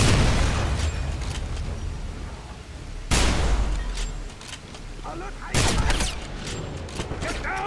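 Grenade blasts and heavy gunfire in the video game Wolfenstein, with loud booming bursts at intervals over a constant roar of combat and a voice calling out in the mix.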